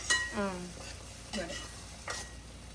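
Onions frying in a pan for palak fish curry, stirred with a few spoon scrapes and clinks over a quiet sizzle, in brief bursts.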